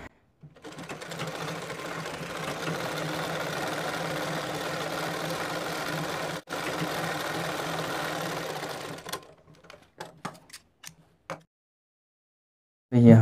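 An electric sewing machine runs in a steady stitching burst for about nine seconds while seaming a palazzo pant, then stops, followed by a few short clicks and handling knocks of the fabric and machine.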